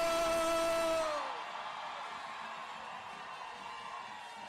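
Cheering crowd at a large Boston protest rally on City Hall Plaza welcoming the Dropkick Murphys, a loud surge of whoops and yells that drops after the first second into a sustained distant roar.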